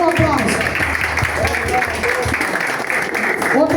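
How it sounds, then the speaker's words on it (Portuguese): Audience clapping at a cultural heritage discussion gathering, fairly close and steady, with voices talking over the applause. "E aplauso para vocês que estão representando uma grande comunidade."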